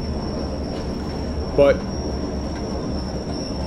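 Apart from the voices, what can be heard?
BR Class 40 freight train running, from Train Sim World video game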